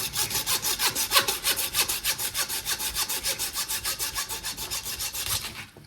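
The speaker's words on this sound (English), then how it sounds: "we only need to cut through the bone with the saw" A hand saw cuts through hog bone in a backyard, steady rhythmic rasping strokes about five or six per second, loud and close, continuing without pause until it stops near the end.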